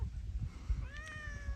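A single short cat meow, close and fairly quiet, rising then falling over about a second against a low background rumble.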